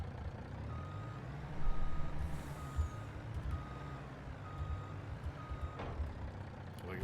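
Big farm truck idling with a low diesel rumble while a reversing alarm beeps repeatedly at a steady rhythm, with a brief hiss of air brakes near the end.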